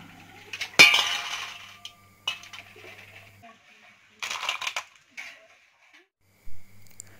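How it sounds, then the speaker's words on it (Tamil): Snails washed in a pot in a village kitchen, their shells clinking and rattling in sharp bursts with quiet gaps between, close by, with a low hum in places. "இப்போ இந்த நத்தை எல்லாத்தையும் கழுவி எடுத்து வச்சிடலாம்."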